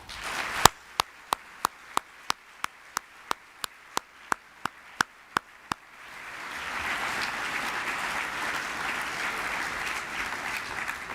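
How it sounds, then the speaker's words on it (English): A steady run of sharp, evenly spaced claps, about a dozen, gives way to a broad wash of crowd applause at an award dinner that continues to the end. "Let's give him a round of applause."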